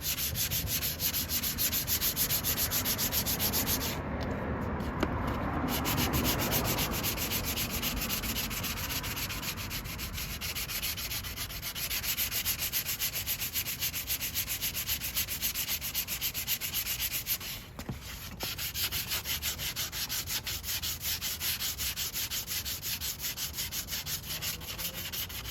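Finer-grit sandpaper rubs over a Bondo patch on an RV's body, a steady, close scratching that runs throughout with short pauses between passes.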